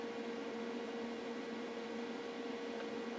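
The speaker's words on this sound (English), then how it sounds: "Kettle's on." An electric kettle runs off a Vtoman 2200 portable power station, giving a quiet, steady hum with a faint tonal whine and a soft broadband rush, constant and unchanging.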